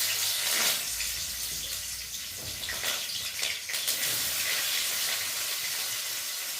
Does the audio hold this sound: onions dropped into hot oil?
yes